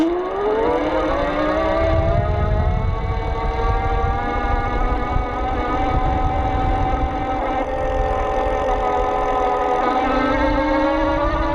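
Easy Motion Evo Street electric bike under throttle, a steady motor whir with a rising and falling tone over continuous road and wind noise, heard close up with no talk.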